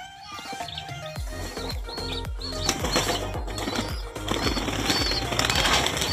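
Young racing pigeons burst from a loft in the Philippines, their wings flapping in a rapid series of close, rhythmic beats that overlap into a busy flutter.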